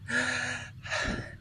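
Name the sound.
circular breathwork breathing in and out the mouth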